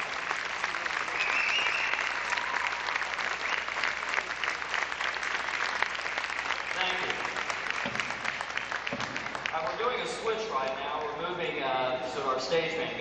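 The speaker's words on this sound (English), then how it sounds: "stand up and let them hear the applause" A high school concert audience claps steadily in sustained applause, with voices and cheers rising toward the end.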